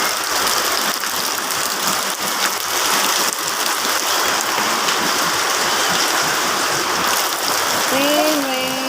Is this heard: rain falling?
yes